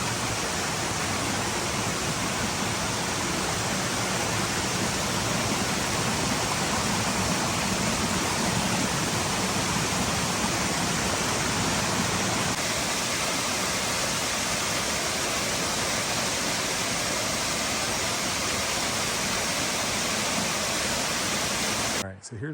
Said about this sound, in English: This is Reed Branch Falls.